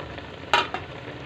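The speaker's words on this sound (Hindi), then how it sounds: "अब हम इसे तेज़ आंच पर ही इसकी भुनाई कर रहे हैं" Chicken for yakhni pulao browning in a pan over high heat hisses softly, broken by two quick louder scrapes of stirring close by.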